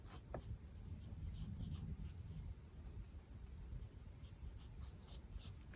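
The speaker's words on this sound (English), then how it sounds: "So I want to draw kind of like a plushie monster." Pencil scratches softly across paper while sketching a plushie monster, close and quiet, with a steady stream of light strokes and no talking.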